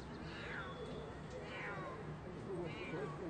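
A cat being rescued meows a few times, thin cries over a busy noisy background with people's voices in the distance.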